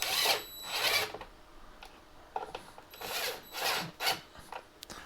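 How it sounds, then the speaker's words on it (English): Short bursts of a ratchet or small power driver tightening the tail light housing bolts on a 2006 Nissan Xterra, several separate runs with brief pauses between them, close up with no talk. "And then we can go ahead and tighten them down."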